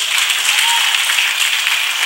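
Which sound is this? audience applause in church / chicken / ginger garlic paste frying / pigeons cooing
audience applause in church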